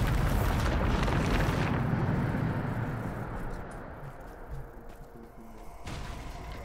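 A Bombarda blasting spell explodes in Hogwarts Legacy, a loud broadband boom that fills the opening seconds before fading into a lingering rumble and debris.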